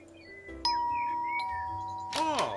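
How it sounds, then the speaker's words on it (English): A two-note ding-dong doorbell chime rings at the Vanderbilt estate in the video game Dirty Split, the two tones fading out, followed by a voice speaking. "we're meant to ring the doorbell, aren't we?"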